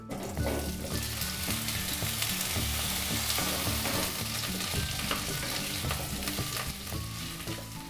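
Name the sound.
frying potatoes in mustard oil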